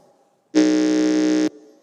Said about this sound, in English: let's do the buzzer check again